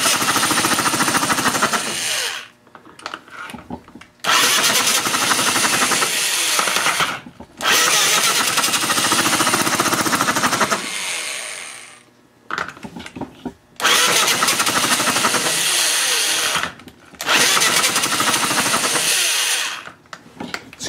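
Small single-cylinder engine on a 1969 Mini Hog minibike runs in loud, ragged bursts, revving hard and then cutting out several times before catching again, with no talking.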